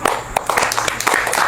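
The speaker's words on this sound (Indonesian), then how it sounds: "Tepuk tangan buat Dina" Audience clapping for Dina Aulia, a SEA Games 2025 gold medalist, at an interview event: a short burst of scattered, fairly close hand claps with bright individual slaps.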